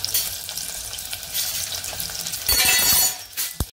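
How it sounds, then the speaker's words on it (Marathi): Chopped onion frying in hot oil for a Konkan-style val bean curry, a steady crackling sizzle throughout that swells louder near the end, with no voices. "कांदा थोडासा भाजत आला"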